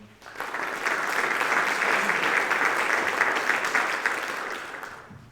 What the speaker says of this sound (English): so I'll give a round of applause for them again